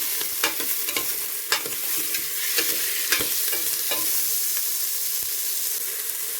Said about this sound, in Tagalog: Haluin lang natin ito guys.